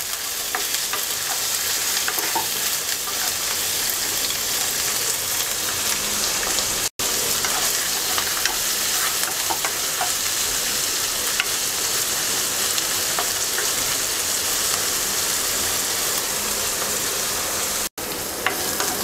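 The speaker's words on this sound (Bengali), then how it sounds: "চিংড়ি মাছটা কিছুক্ষণ ভেজে নেব।" Prawns and onion frying in oil make a continuous loud sizzle with frequent stirring clatter and sharp pops, sustained at close range with two momentary dropouts; nobody talks.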